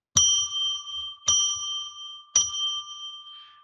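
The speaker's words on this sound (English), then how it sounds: "I'm going to ring a bell 3 times to declare sacred space." A ritual bell rung to declare sacred space gives three clear, bright dings about a second apart, each ringing out and fading before the next strike.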